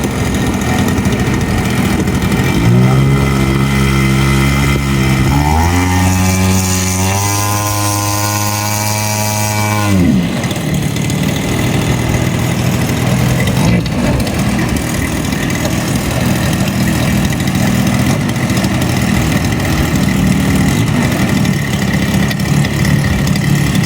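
The engine of a giant RC XCub model airplane drones loudly and steadily while the throttle trim is adjusted. Its pitch steps up several times and then drops back to a rough, lower idle that continues without voices.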